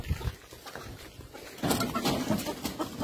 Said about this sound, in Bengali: এখানে মুরগি চাষ হয়, এটা মুরগি